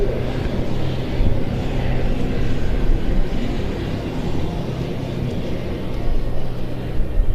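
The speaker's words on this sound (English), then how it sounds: "the Krila Oluje, the Croatian Air Force aerobatic team of Pilatus PC-9Ms," Croatian Air Force Krila Oluje aerobatic team Pilatus PC-9M turboprops backtracking along the runway at the NATO Days air show, a steady, even engine rumble that holds without a break throughout.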